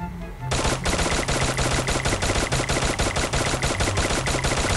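An XM8 rifle fires in Free Fire, a fast, unbroken burst of loud, evenly spaced shots that starts abruptly after a brief quiet moment and keeps going throughout.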